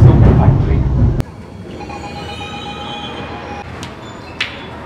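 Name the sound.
metro train arriving at Sandal Soap Factory station, Bangalore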